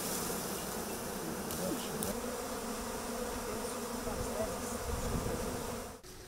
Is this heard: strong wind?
no